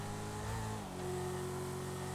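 A Mustang engine in Grand Theft Auto 5 revs while driving, a sustained droning hum with a pitch shift partway through as the revs settle, steady and continuous with no voices.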